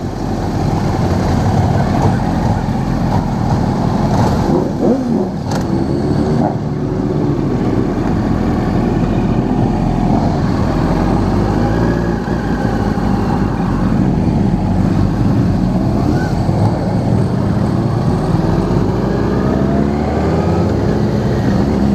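Motor engine running steadily throughout a group ride, a continuous droning rumble with slight rises and falls in pitch, close and loud with no talk over it.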